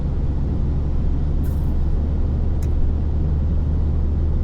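Car cabin on a French motorway during acceleration, a steady low engine and road rumble with a continuous wind hiss and a couple of faint brief high clicks, no talk.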